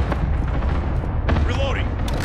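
Cluster strike explosions in Call of Duty: Modern Warfare, a dense run of booming blasts under continuous loud gunfire and game action, with a voice talking briefly over the mix.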